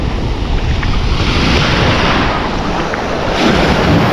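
Ocean waves wash steadily onto a long beach at Placencia, with a constant loud roar of surf and gusts of wind buffeting the microphone.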